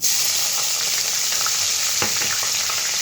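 Nigella seeds and chopped onion sizzle loudly in a little hot oil left in the pan after frying prawns for doi chingri, a dense, constant crackle close by, broken by a few stirring scrapes and small pops.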